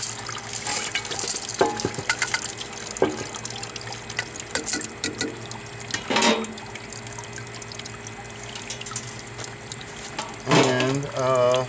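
Tap water runs and splashes while a rock tumbler barrel is rinsed out in a cleanout sink with a grit recovery system. It carries on steadily throughout with clinks and knocks, and a louder gush of water near the end.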